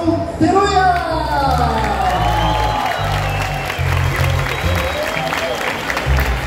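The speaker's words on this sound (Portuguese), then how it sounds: "queria que vocês também aplaudissem com muito carinho nosso mestre Isao Teruya!" Festival audience at the Okinawa Festival applauding master of ceremonies Isao Teruya, sustained dense clapping with some cheering and whoops, loud and continuous over a background of music tones.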